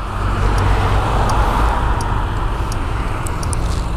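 A vehicle with a throttled carburettor accelerates, its engine giving a steady, fairly loud low drone under broadband road and wind rush, with a few faint high clicks and no talk.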